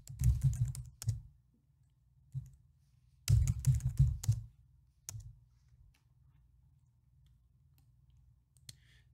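Command typed on a computer keyboard in a GIS map console: quick bursts of close, clicky keystrokes in two clusters, separated by pauses with a few isolated taps.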